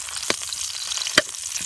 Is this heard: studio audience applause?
no